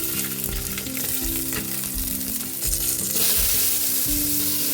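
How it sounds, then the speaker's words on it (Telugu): Green chillies fry in oil inside a pressure cooker on a stove, giving a steady, close sizzle with low clattering pulses as they shift and pop, growing slightly louder and brighter near the end. "ఇప్పుడు కొద్దిగా ఆయిల్ వేసుకుందాం ఇప్పుడు పచ్చిమిర్చి వేసుకుందాం"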